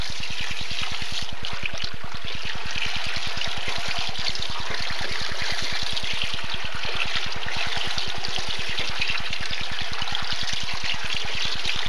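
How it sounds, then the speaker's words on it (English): Water pours and trickles steadily as material is washed down inside a gold panning bowl, a continuous close splashing wash with no talk over it. "Go ahead and wash them down in, and wash the rest of the bowl down here."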